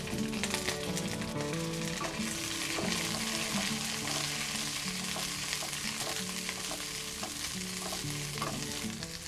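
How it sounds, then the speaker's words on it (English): Garlic, mushrooms and peas stir-fry in hot oil for a Thai mixed-vegetable dish, giving a steady, dense sizzle with continuous stirring throughout and faint tonal sounds underneath. "Stir it."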